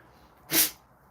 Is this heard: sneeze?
yes